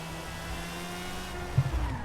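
A shrill, high-pitched rotary engine of a 2002 Mazda RX-7 Spirit R Type-A in Forza Horizon 5 whines steadily, rising slightly in pitch, loud and close with no talking.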